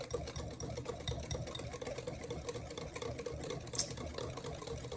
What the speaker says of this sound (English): Give this a good whisk.